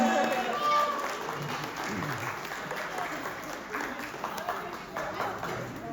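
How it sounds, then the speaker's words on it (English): Steady audience applause and clapping for a troupe of women dancers who performed in heels, dense and continuous throughout, with a voice briefly heard over it near the start. "Big round of applause for these gorgeous ladies"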